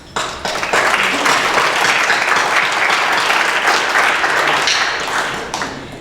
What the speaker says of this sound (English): So I'd like to give you a round of applause